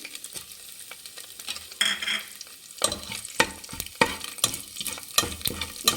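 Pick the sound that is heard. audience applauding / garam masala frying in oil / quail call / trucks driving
garam masala frying in oil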